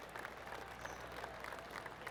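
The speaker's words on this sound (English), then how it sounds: "Oh, golf clap. That's a beauty." Soft, polite golf clap from a small crowd in the video game PGA Tour 2K23, quiet and brief.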